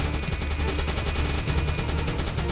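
Rapid gunfire rattles from a U-boat combat video game as the last ammunition is spent, a continuous dense burst of shots without pause.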